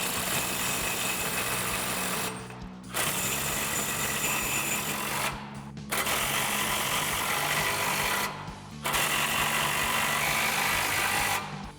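A power tool with a 22mm socket runs on U-bolt nuts at the differential of an F-150 during a suspension lift install, whirring loudly in four long bursts separated by short pauses.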